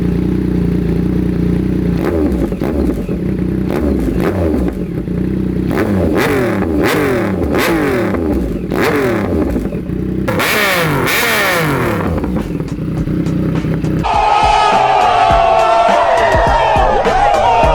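A motorcycle fitted with a new SC Project exhaust muffler is revved close by. Repeated loud throttle blips rise and fall in quick succession, then build into a sustained high-pitched rev near the end.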